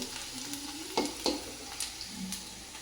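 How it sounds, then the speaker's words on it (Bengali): Onions with cumin fry in a pan with a soft continuous sizzle, broken by a few scraping stirs of the spatula. "এদিকে পেঁয়াজ ভাজছি, পেঁয়াজ একটু জিরা দিয়ে দিয়েছি, দিয়ে পেঁয়াজ ভাজছি"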